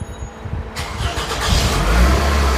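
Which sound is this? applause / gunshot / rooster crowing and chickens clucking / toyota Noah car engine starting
toyota Noah car engine starting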